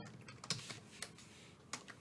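Keys on a computer keyboard are tapped in quick, uneven clicks during Python coding, faint and close, with no voices.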